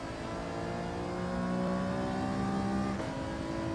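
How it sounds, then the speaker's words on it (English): An Alfa race car in a racing video game at Suzuka Circuit, its engine holding a steady mid-pitched drone that climbs gradually as revs rise, loud and continuous with no voices over it. "You like the sound of the alpha?"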